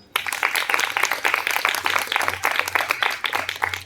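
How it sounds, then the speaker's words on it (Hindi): Audience at a Hindi poetry gathering applauding after a poem recital: loud, continuous clapping from many hands, close and sustained for the whole stretch. "तालियां हो जाए, बहुत ही जोरदार कविता सुनाई गीता दी ने।"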